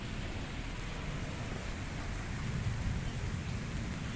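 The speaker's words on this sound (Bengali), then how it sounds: "চরম জোরে জোরে মেঘ ডাকছে" Steady heavy rain with low, rolling rumbles of thunder swelling near the end, continuous and fairly loud, with no voices.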